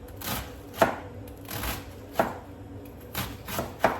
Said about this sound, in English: I'm continuing to cut my cabbage